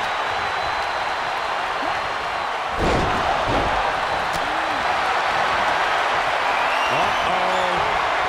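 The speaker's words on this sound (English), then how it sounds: "What a raucous crowd here tonight." Raucous arena crowd at a WWE 2K24 wrestling video game event, a steady loud roar of cheering throughout with a thudding slam-like burst near the three-second mark and scattered whoops.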